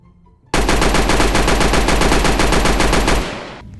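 A Mac submachine gun fires in the Roblox video game as a single loud, rapid, unbroken automatic burst of about three seconds. The burst starts abruptly after a short quiet and ends with a brief fading tail.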